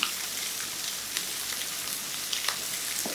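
Napa cabbage sizzling in a skillet over medium heat, a steady soft crackle and hiss with a few brighter pops and faint clinks, close and moderately quiet with no voices.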